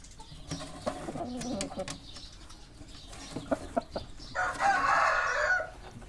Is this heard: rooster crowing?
yes